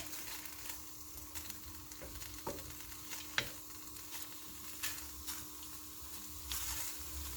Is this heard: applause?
no